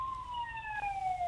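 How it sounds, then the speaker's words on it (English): A police car siren wails past on the Brussels Ring Road, a loud, slowly falling tone with its harmonics over a low traffic rumble, with no talking. "You can hear the sirens behind me,"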